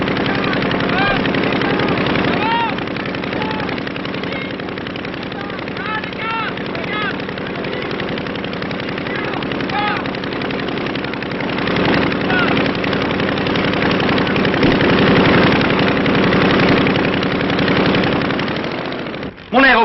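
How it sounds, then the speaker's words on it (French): An old aeroplane's engine runs steadily with a droning, throbbing tone, fairly loud throughout with slight swells and a sudden cut near the end, while voices talk over it. "Mon aéroplane."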